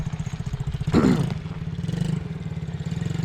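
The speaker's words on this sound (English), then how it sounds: "SSR 70 dirt bike, automatic." An SSR 70 automatic dirt bike engine idles with a steady, close putter, briefly blipping louder with a rattly rev before settling back to its pulsing idle.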